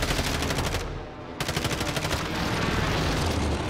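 Sustained automatic gunfire in a shooter video game rattles in fast, even bursts at close range, pausing briefly before the shooting picks up again and runs to the end.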